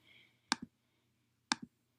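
Mouse clicks while editing a website: two crisp double clicks, each a sharp press followed quickly by its release, about a second apart in an otherwise quiet room.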